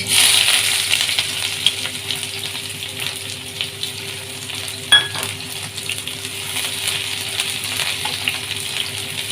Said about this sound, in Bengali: তেলটা গরম হয়ে গেছে, তেলের মধ্যে আমি যোগ করব এই কুচো পেঁয়াজ।